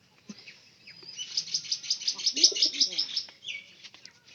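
A domestic pigeon that seems unwell coos in a hoarse, thickened voice: low, rough coos sit beneath a busy layer of high, fast chirping from other birds, moderately close and steady for a few seconds.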